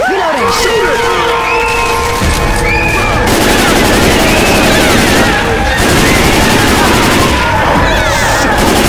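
Loud, rapid gunfire from Left 4 Dead 2 in The Passing campaign, with bursts and sustained automatic shooting running throughout, crashes and game noise layered in, and voices talking over the shooting.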